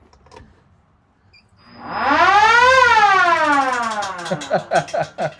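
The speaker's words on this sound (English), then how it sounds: "Yeah, that's a siren. You want to hear it?" A siren on a classic car winds up and rises to a loud wail, then falls away in choppy pulses as it stops, heard up close with no talk.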